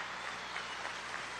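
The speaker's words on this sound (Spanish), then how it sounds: "un aplauso para la familia" A crowd at a National Bolivarian Police graduation applauds in a dense, steady patter of many hands clapping, somewhat distant and fairly quiet, lasting only a moment.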